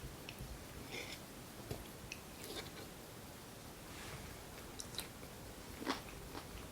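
Crunchy homemade pickled cucumber is bitten and chewed, soft repeated crunches heard faintly close by over a noisy background, with no talking.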